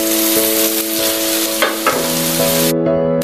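Vegetables for Indonesian nasi goreng fry loudly in a pan, a steady close sizzle with a few stirring scrapes, under a sustained tonal background.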